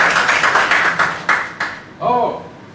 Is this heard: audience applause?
yes